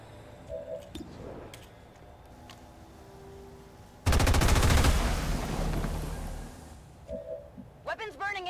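In XCOM 2, a sudden loud burst of gunfire erupts and rattles for about three seconds before fading, set among quieter game sounds and clicks.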